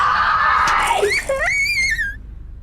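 A young child's high, wavering scream rises and falls in the home, following a harsh adult voice that shouts loudly just beforehand, then the scream trails off.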